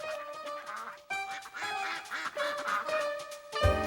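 Ducks quack repeatedly in a noisy, overlapping burst, several birds calling close by with harsh, nasal honks that run almost continuously.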